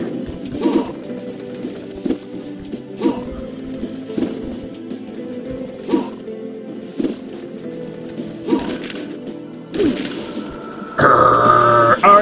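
A bird coos repeatedly in the video game Color Symphony, short regular calls every second or two over quiet game music, with a brighter burst of sound near the end.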